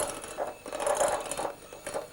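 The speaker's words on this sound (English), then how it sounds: "I'm just going to break it down with my whisk" A whisk beats stiff cream in a tub, giving soft, rhythmic scraping and clicking strokes at close range, fairly quiet and with no talk.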